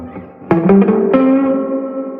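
A single electric guitar chord rings out through a Fender Tone Master Deluxe Reverb amp set to 1 watt, followed by a couple more struck notes that sustain with a distorted, reverberant tone at moderate volume.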